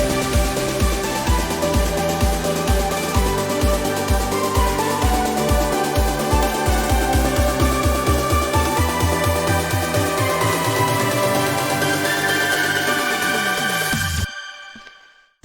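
A progressive house build-up drives forward with a pounding kick and layered synth leads, the beats growing denser and more intense before everything cuts to near silence at the end.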